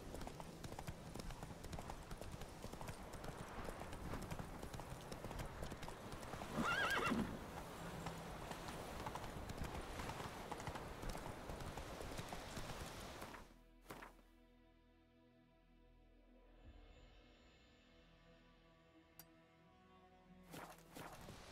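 A horse gallops in The Witcher 3 video game, with fast rhythmic hoofbeats and a whinny over game ambience, then the hooves stop and near silence follows with a few soft effects.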